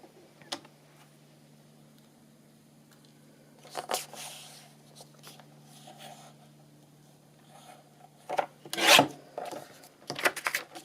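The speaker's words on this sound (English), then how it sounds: "So I'll just trim a bit more off of this one, I think." Paper being trimmed for a scrapbook page makes faint, scattered scraping and cutting strokes, with a louder slicing rasp near the end over a low background hum.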